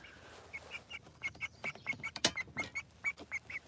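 A close-by chicken makes quick, repeated short clucks in an irregular rhythm, with light scratching noises between calls.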